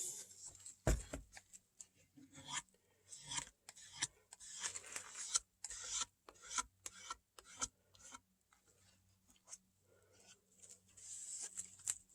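A blade scrapes the wooden stock of a Stevens single-barrel 12 gauge shotgun near the wrist, where friction tape had been stuck. Short, quiet rasping strokes come in irregular bursts with small pauses between them.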